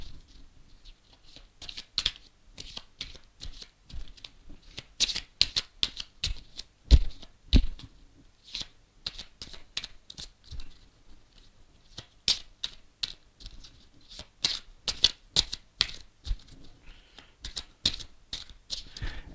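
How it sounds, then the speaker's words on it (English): Tactical objective cards for a Warhammer 40,000 tabletop game are shuffled by hand. Dry, crisp riffling bursts and taps repeat in uneven clusters, close and clear, with no talking. "Just shuffle up the tactical objectives."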